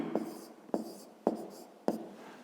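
A pen writes numbers by hand on paper in four distinct scratchy strokes at even intervals, close and fairly quiet, with no voice over them.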